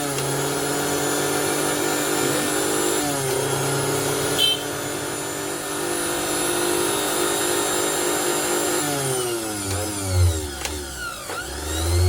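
A repaired Hindustan mixer grinder runs with a steady high whine. Near the end its motor pitch sweeps up and down, with a few low thumps, loud and close and with no talk.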